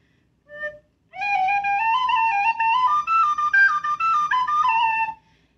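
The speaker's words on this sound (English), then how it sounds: "This is an Irish tin whistle." An Irish tin whistle plays a brief opening note, then a bright, continuous melodic phrase of shifting pitches, loud and close, with no talking.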